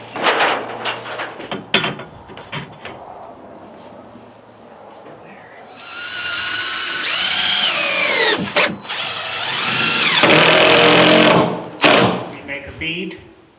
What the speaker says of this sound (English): we'll start installing the screws